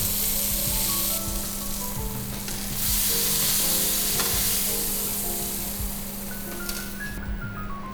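Fassona beef sirloin edges searing in a hot pan, a steady loud sizzle running throughout with occasional crackles and a low continuous hum beneath.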